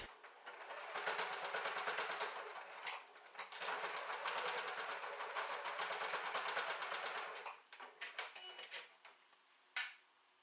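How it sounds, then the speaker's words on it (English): A sewing machine stitches bias binding onto a boxy pencil case, a close, steady mechanical whir in two long runs broken by a short pause, ending in a few stop-start bursts and clicks. "Sew the bias in place, making sure to back stitch at the start and the end to keep the bias firmly in place."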